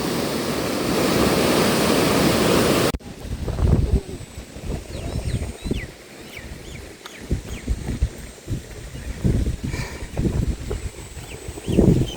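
Water flows along a canal near Mysore, a steady close rushing wash that is loudest for the first few seconds, then continues as a softer, uneven gurgle with no voices.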